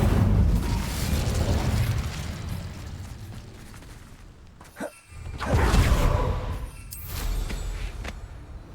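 Incendio fire spell cast in Hogwarts Legacy, a loud whooshing burst of flame that swells and then tails off over a constant wash of game ambience and rumble.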